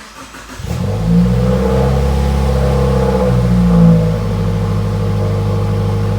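A 2016 Subaru WRX engine cranks and catches after a spark plug change, revs up loudly, then settles into a steady, close idle.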